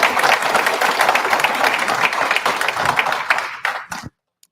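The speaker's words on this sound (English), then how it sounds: "Please give these guys a round of applause." Loud, dense audience applause at a civic gathering on homelessness in Sioux Falls, steady for several seconds before thinning to a few last claps and cutting off.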